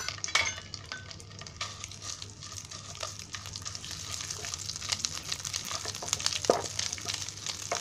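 Egg curry ingredients fry in hot oil in a pan, giving a steady, crackling sizzle with scattered scrapes and clinks of a stirring utensil against the metal.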